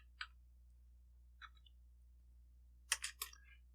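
Keystrokes on a computer keyboard entering a network device command line: a single faint click, another soft cluster, then a quick burst of several taps near the end, isolated against a quiet low hum.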